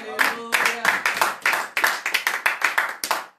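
A congregation claps in a quick, uneven patter of many hands, around a dozen distinct bursts over a few seconds, close and fairly loud with a brief voice at the start.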